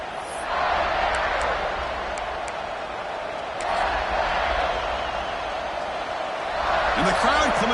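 A stadium crowd at a playoff football game roars in swelling waves, a dense wash of cheering that surges, dips and builds again, with a commentator speaking over it.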